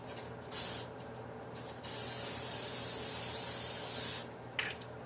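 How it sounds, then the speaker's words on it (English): Two hissing sprays from a can of cooking spray onto a pan: a short burst, then a longer steady spray lasting a couple of seconds, close by in a quiet room. "So let's spray the pan."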